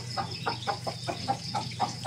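Chicken clucking in a rural countryside setting, a steady series of about eight short clucks at an even rhythm, fairly close and moderately loud over a low background hum.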